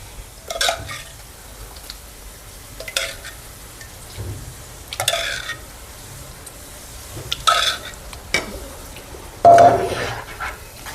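Boiled dal poured into a hot tempering of spices for Kathiyawadi dal fry, giving several short bursts of sizzling and stirring with pan clatter, spaced a few seconds apart, close by.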